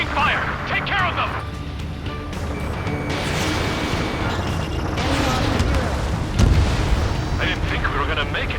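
Enemy fire and explosions in the Ace Combat 7 mission Last Hope: continuous booming blasts and crashing impacts rumble densely throughout, with voices speaking over the combat.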